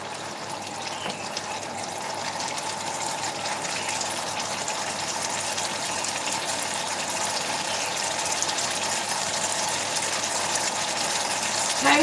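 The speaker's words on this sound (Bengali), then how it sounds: "তারপরে আমি গরম জল অ্যাড করে দেবো।" Hot water is poured into a simmering pot of Kashmiri-style cauliflower curry, a steady, moderate gushing and bubbling that continues evenly throughout with no voices.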